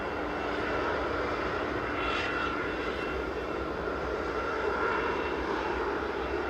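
A Logan Air ATR 72-600 turboprop lands at Manchester Airport, its engines a steady, loud, broadband roar with a droning propeller tone that holds throughout.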